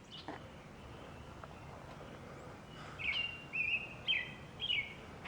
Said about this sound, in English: I swear that thing's got like 50 different chirps. Sounds like every bird in the neighborhood.